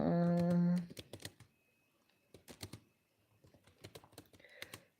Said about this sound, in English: Right now I'm typing